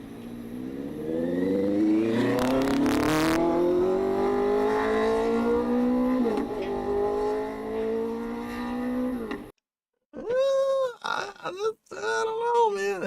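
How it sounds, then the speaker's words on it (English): A vehicle engine revs and pulls away at Starbase, its pitch climbing steadily over several seconds at a fairly loud, continuous level, then cutting off abruptly; people talk briefly afterward. "Somebody just pulled away from Starbase."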